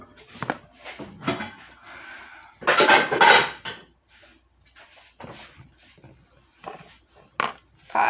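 Dishes being washed at a home kitchen sink: pots, plates and cutlery clatter and clink in irregular bursts, with a louder jumble of clanking midway and quieter scrapes between, close by.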